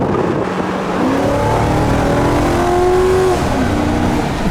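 A Ford Crown Victoria Police Interceptor accelerates hard during a road test, its engine note climbing loudly and steadily through the gears over a constant road roar, heard from inside the car.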